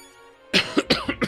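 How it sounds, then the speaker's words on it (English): A person clears their throat several times in quick succession, close and fairly loud, the rough bursts following a quiet stretch of soft background game music. "I was trying to clear my throat"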